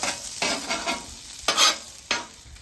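Fatty pork crisping on the bottom of a hot pan in its own rendered fat, a close sizzle swelling in quick bursts as it is stirred or shifted, with no one talking.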